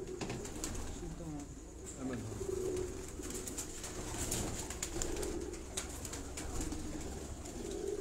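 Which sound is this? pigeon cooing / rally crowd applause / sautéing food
pigeon cooing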